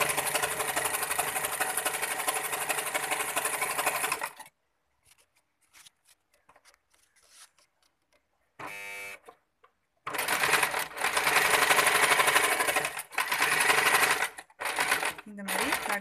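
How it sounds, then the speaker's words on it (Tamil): A sewing machine stitches a half-inch folded hem along the full length of a lungi, whirring loudly in long close bursts that are broken by a quiet pause and a brief run, with no speech. "இப்படி நல்லா சமமாக வச்சு 1/2 இன்ச்சுக்கு மடித்து ஃபுல் லென்த்துக்கும் தைக்கிறோம்."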